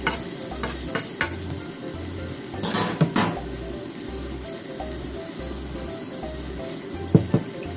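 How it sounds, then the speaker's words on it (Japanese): A chikuwa, green pepper and egg omelette fries in a pan with a steady close sizzle, while a utensil clinks and scrapes against the pan a few times. "これでまた2、3分焼きます"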